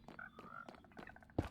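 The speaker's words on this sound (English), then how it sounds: "behind here, I've got some green frogs." Green, white and brown frogs croak in a Minecraft frog farm, a few short faint calls in close succession with one louder croak near the end, and no talk.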